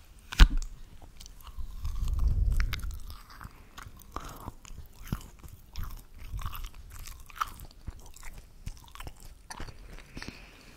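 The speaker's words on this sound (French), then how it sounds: "Alors champignon, tu croques ou pas?" A small raw button mushroom, stem and skin removed, is bitten into with one soft crunch, then chewed close to the microphone in quiet, irregular moist crunches over about ten seconds, with no talking.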